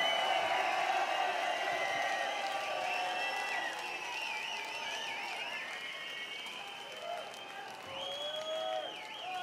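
A crowd at a Tidy Weekender rave in 2006 applauds and cheers a DJ, sustained clapping and shouts with music tones and a voice over the top.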